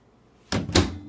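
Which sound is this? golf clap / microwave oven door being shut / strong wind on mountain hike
microwave oven door being shut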